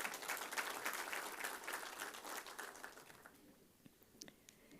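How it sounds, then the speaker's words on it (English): An audience at a defence forum session applauds to welcome a Member of Parliament, a dense clapping burst that fades gradually to scattered claps. "Let us all once again welcome the Honorable Member of Parliament with a huge round of applause."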